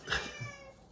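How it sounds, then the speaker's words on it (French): A house cat lets out a single short meow, close and fairly clear, fading quickly into quiet. "Ça, c'est mon chat"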